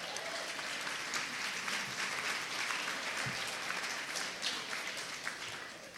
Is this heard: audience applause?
yes